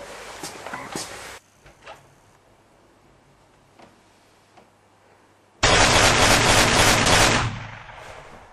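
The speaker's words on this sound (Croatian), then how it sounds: "Joj, neko puca." A loud burst of gunfire erupts in a comedy scene, a dense fusillade lasting about two seconds after quieter stretches with voices, then cutting off abruptly.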